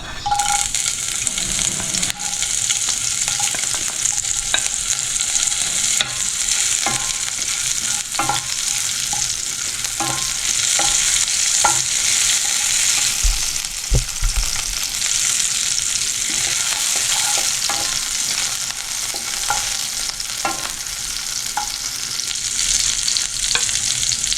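Sabudana khichdi is stirred with a spoon while it fries in a pan, giving a continuous bright sizzle with repeated scraping and clinking strokes, close and alone.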